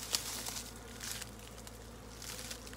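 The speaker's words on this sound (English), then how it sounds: "I'm going to try to get as close as I can to this swarm ball without disturbing it." A large honeybee swarm clustered in a ball in an olive tree, giving off a faint, steady outdoor hum of buzzing with brief louder passes of individual bees flying close.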